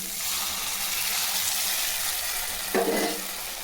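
Soft, continuous frying hiss of masala with cauliflower in a pan, with one brief clunk of a utensil near the end.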